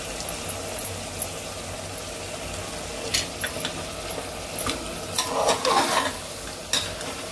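Mutton is sautéed in a pan for mutton soup. A continuous sizzle runs under repeated scraping stir strokes, and a louder burst of frying and scraping comes near the end, close by with no talk.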